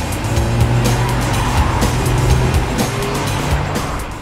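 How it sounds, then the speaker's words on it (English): An Audi S1 Sportback with a 2-litre TFSI four-cylinder engine making 231 horsepower drives hard. A loud, continuous engine roar blends with tyre noise and brief squeals throughout. "Wow, this Audi S1 really moves."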